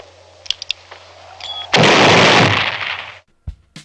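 Grenade explosion in a film scene at a mine shaft: a few sharp clicks, then a sudden loud blast with a roaring rumble lasting about a second and a half, followed by a brief low thud.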